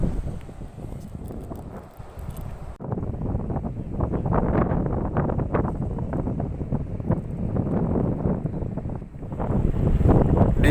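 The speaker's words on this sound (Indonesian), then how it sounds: "Di sini anginnya kencang sekali." Strong wind roars at a sea estuary while fishing, a loud, steady rushing buffet with microphone wind noise that swells and drops over about ten seconds, nearby water faintly mixed in.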